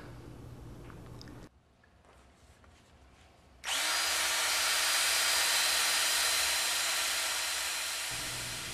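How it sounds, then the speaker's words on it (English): A power drill twisting string whirs up to a loud, steady high-pitched spin of about 1400 RPM after a few quiet seconds, running continuously and gradually slowing near the end. "This drill isn't the fastest."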